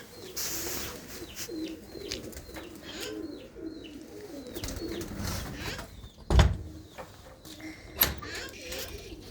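Pigeons cooing and shuffling inside a village loft of female pigeons, a steady low murmur of soft calls throughout with a couple of sharp knocks or wing bumps near the end, with no talk.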